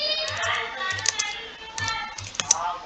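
Keys clack on a computer keyboard in quick irregular bursts, close and crisp, over a faint low background murmur.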